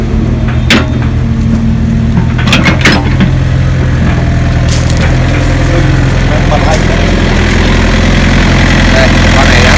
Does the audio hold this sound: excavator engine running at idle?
yes